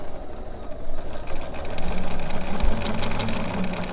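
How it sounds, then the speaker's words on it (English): A sewing machine, model 97D, stitches a Celtic quilt piece, running in a steady fast mechanical whir with rapid needle rhythm, close and continuous for several seconds without talk. "Now I'm just going to sew this on"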